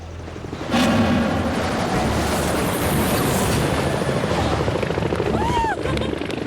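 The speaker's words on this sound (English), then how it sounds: "I hear the propeller noise, I feel the dust, the wind." Helicopter propeller noise, a loud close roar of rotor blades with wind and dust rushing, steady after a sudden onset, with a faint tonal sweep near the end.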